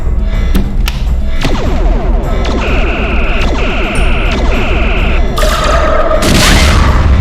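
Spaceship weapons fire and explosions in a science-fiction audio drama space battle: a loud, chaotic stream of booms, crashes and thuds with shrill electronic tones and sharp blasts, no voices.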